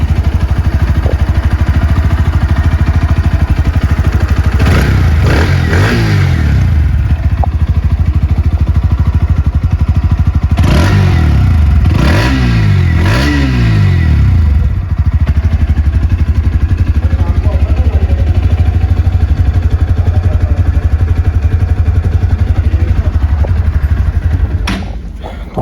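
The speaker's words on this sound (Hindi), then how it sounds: "और एग्जॉस्ट कैसा है वो सुन लेते हैं" A Bajaj Pulsar NS motorcycle idles steadily throughout. Its exhaust is blipped in a few short revs near 5, 11 and 12 seconds, each rising and falling back to idle, loud and close with no talk.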